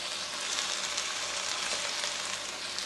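Egg sizzles in a hot pan alongside partly cooked pork for Thai pork fried rice, a dense, steady, crackling hiss heard close up with no voices.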